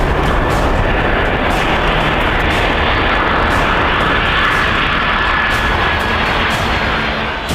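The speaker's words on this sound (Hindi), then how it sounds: "एयरफोर्स 1 की सेफ लैंडिंग हुई" A Boeing 777 serving as Air Force One comes in to land, its jet engines producing a loud, steady broadband roar that stays constant and close throughout, with no voices.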